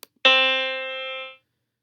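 One sustained musical note rings out clearly after a faint tap, holding steadily for about a second before stopping cleanly.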